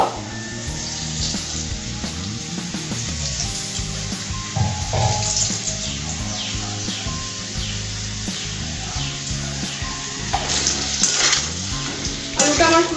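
Potatoes for chicken biryani fry in hot oil with a steady close sizzle, broken by repeated scraping and stirring strokes of a utensil against the pan, and no voices.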